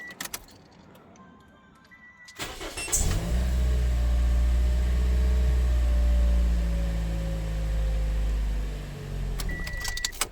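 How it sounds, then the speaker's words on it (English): A 2010 Toyota Corolla engine cranks briefly and catches, then runs at a steady loud idle close by after a quiet opening with faint clicks, easing slightly toward the end. "What you do is you just start the engine."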